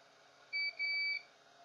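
Two short electronic beeps from a Dell Latitude E6440 laptop with a shorted ceramic capacitor on the motherboard, a brief one followed by a longer one, with a thin high pitch over faint background hiss.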